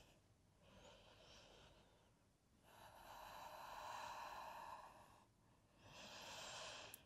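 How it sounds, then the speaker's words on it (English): Slow, deep breaths in and out through the nose during a yoga flow, each long airy inhale and exhale rising and fading softly, close and quiet. "Just breathing in and out through the nose."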